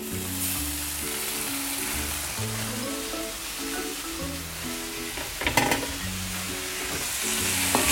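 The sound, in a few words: stirring boiled vermicelli into spices in a pan for namkeen sewai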